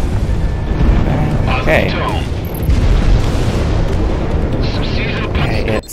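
Heavy booming explosions and artillery-like blasts rumble continuously through an aerial dogfight in Project Wingman as an enemy Latoria fighter is shot down, with a voice speaking briefly over the din.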